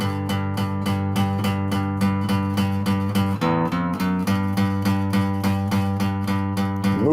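A low, sustained guitar riff from a song repeats on the sixth string with a steady picking pulse, climbing briefly in the middle before settling back into the same pattern.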